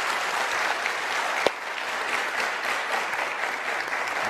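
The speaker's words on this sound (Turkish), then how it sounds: "Bir de alkış istiyoruz." A studio audience at a Turkish word-game show breaks into steady, even applause, dense clapping throughout with one sharper clap standing out.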